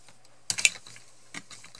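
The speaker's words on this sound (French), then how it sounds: "maintenant je vais couper mon ruban." A few quick, close snips of scissors cutting ribbon while making a compact mini album, a short cluster of crisp clicks followed by one more cut.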